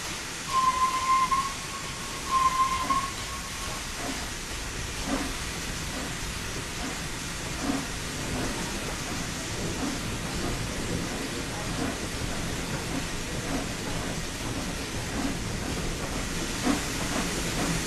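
A steam locomotive hisses steadily as its regulator is slowly opened to apply power. A brief whistle-like tone sounds near the start, then a continuous, moderately quiet rush of steam carries on throughout.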